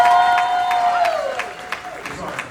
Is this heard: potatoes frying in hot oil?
no